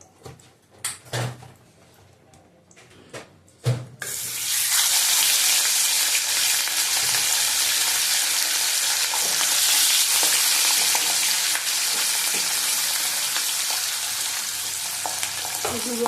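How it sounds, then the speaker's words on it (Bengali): Pieces of rohu and catla fish fry in hot oil in a wok. A few clunks and knocks come first, then a loud, steady, close sizzle that fills the rest of the clip. "দেখো হয়ে গেছে, মাছ ভাজাটা আমি তুলে নিলাম।"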